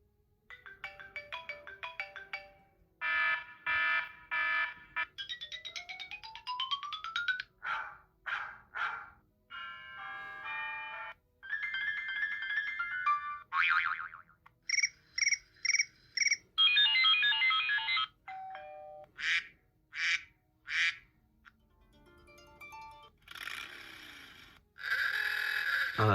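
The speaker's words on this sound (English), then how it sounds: "let's check out some of the alarm things we have in here because there's plenty of old ones" A string of old iPhone 4S alarm tones on iOS 5 plays one after another. Short bright melodic chimes, beeping patterns and ringtone-like jingles each sound for a second or two, loud and close, with brief gaps and no talk.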